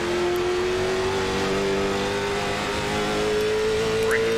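Race car engine in a CARS Tour race at Stafford Speedway in iRacing, a loud, sustained steady drone held at high revs from an in-car perspective, with a faint rising note late on.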